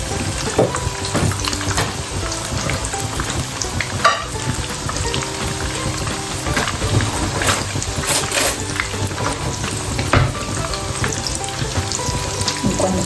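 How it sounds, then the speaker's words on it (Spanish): Stuffed potatoes filled with cheese fry in oil, four at a time, giving a continuous close sizzle with scattered pops and occasional clinks, no talking. "Freímos bien de un lado."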